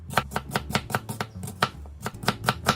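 Knife slicing pork on a chopping board, a fast, steady run of sharp, close chops and thuds, about a dozen in under three seconds.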